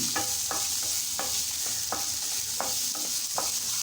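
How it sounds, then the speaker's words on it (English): Onions with salt frying in a pan, a constant hiss of sizzling oil punctuated by regular spatula scrapes about every half second, close and clear with no speech. "You can add little salt so that the onions get fried soon."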